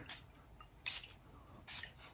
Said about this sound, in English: Okay, powerful atomizer that is.